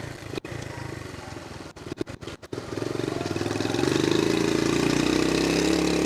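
A 1972 Honda CT70H small motorcycle engine idles with a few sharp throttle cuts, then revs up steadily and holds a loud, buzzing high note, close by.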